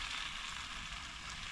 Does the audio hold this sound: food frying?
yes